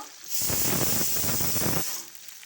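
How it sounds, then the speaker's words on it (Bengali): Beef for a bhorta being fried and stirred in a pan gives a loud hissing sizzle that rises sharply, holds steady for about a second and a half, then drops back to a faint hiss. "সবগুলো আমি ভাজা ভাজা করে নেব।"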